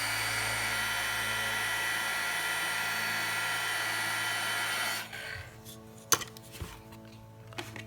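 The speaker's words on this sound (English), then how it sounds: "So we're just going to heat emboss that." A heat gun blows steadily for heat embossing on a craft print, a loud whirring fan hiss that cuts off after about five seconds, followed by a few quiet clicks and taps.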